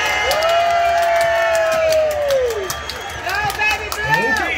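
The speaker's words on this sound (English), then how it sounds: "let's have a big round of applause for your Chuck E." A children's birthday party crowd at Chuck E. Cheese cheers and whoops, with excited young voices and a long rising shout over a busy, lively room, then scattered clapping and chatter.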